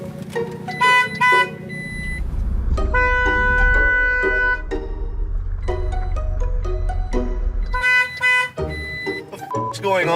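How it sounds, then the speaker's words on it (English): A car horn blares in short bursts and then sounds in longer sustained honks, loud and close. The honks are broken up unevenly, as if set off by accident, with a low engine rumble underneath. "the horn went off."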